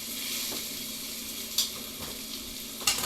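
Fish fillets for Baja fish tacos sizzle steadily in a hot frying pan just after being flipped, a continuous close crackle with a few sharper pops and spatters, no talking.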